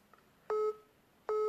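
A telephone gives two identical electronic ring bursts with a steady, even pitch, each lasting about a quarter second, close and clear over a quiet background, with no voices.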